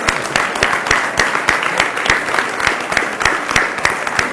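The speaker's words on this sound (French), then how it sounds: "Un applaudissement pour eux." A crowd at an honours presentation event applauds continuously, with dense, steady clapping and some individual claps standing out close by, sustained throughout.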